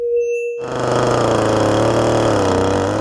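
A chainsaw runs steadily at high revs, loud and close, as an artist carves a wooden log; a faint tone is heard briefly before the saw starts.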